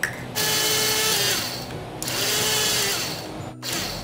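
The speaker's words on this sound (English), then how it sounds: "time to grind in our roasted chana dal" An electric grinder whirs through roasted chana dal for murukku in loud, steady bursts, pausing briefly between runs, with a sharp clatter near the end before it starts again.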